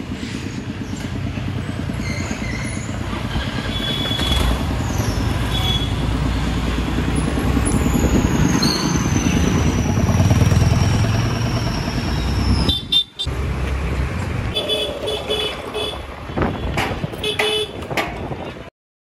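Car pulling away along a crowded road near the Bareilly Sharif dargah during a busy urs gathering, with a steady engine rumble, traffic noise and scattered horn toots, then a brief sharp break and more distant honking toward the end.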